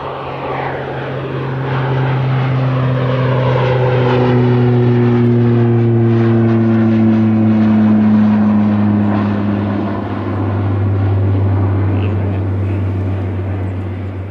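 A light propeller plane, apparently a Cessna, takes off on runway 16 at Kelowna airport in British Columbia, its steady engine drone building and holding loud and close throughout with a slowly shifting pitch.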